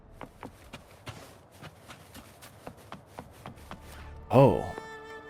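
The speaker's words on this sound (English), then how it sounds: "That sound was the lioness dashing." Lioness dashing in a video game, a quick series of soft padded footfalls in a fast running rhythm, followed by a louder burst near the end.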